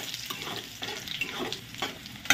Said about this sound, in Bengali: রসুনটা একটু নাড়াচাড়া করে আমি তার মধ্যে দিয়ে দেবো কালো জিরে দিয়ে একটু নেড়ে